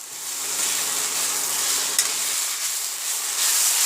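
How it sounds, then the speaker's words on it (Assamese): A spoon stirs taro stem curry with fish head, just seasoned with ground pepper, in a hot pan, giving a loud, close, continuous sizzle with soft scraping strokes and no talk. "জালুকৰ গুড়িখিনি দি অকণমান লৰাই থাকিব"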